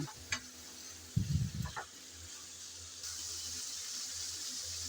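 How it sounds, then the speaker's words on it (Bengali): Okra and onion sizzle softly in a pan, broken by a few clanks of a utensil stirring and scraping, with a steady low frying hiss throughout. "অনব্রত এভাবে নেড়ে চেড়ে ভাজতে হবে"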